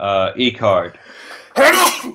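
One loud, abrupt sneeze close to the microphone follows a brief spoken phrase, a sudden harsh burst that fades quickly.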